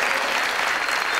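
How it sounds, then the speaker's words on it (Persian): Studio audience on a Persian-language Family Feud style game show bursts into steady, dense applause, loud and close, filling the whole short moment without talk. "دوستا تشویقشان کنین"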